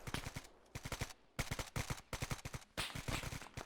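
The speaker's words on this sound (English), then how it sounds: "Okay, they're firing into the woods." Gunfire in the video game Arma 3 comes in rapid automatic bursts, with sharp loud shots clustered in quick strings and brief pauses between volleys.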